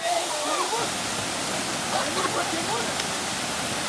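Waterfall with people bathing beneath it near Bhimashankar, giving a steady, close broadband rush of falling water that fills the whole stretch, with faint voices mixed in.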